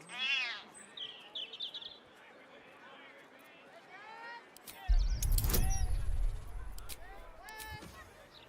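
A cat gives several meows and short cries, first alone and fairly near, then against a sudden loud rumbling noise in the second half.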